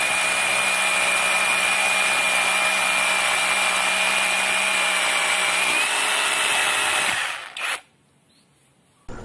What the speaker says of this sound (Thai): สำหรับการนำมาทดสอบเจาะพื้นก็ถือว่าทำได้สบายสบาย